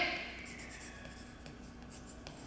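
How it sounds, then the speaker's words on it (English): Pen or pencil writing a name on a paper half circle cut with a box cutter, a short burst of soft scratchy strokes, close and quiet, following a brief bright tone at the start. "make sure you write your name on it"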